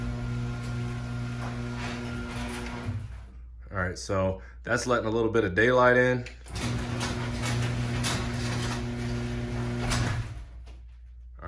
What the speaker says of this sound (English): I'm gonna crack the garage door just to turn on the garage door opener light.